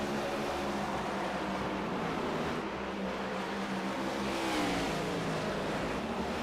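Race cars at Bristol Motor Speedway, including the 87 and 22 machines battling side by side on the back straightaway, roar continuously at close range, engines revving hard with a steady loud drone and shifting pitch as they pass.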